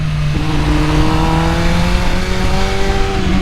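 A tuned 2021 MV Agusta Rush motorcycle with a flashed ECU accelerates hard, its engine note rising steadily in pitch, loud and close with wind rush and no talk.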